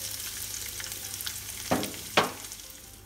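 Garlic and shallots sautéing in a little leftover oil give a steady close sizzle, with two sharp, louder hisses as ingredients hit the hot pan.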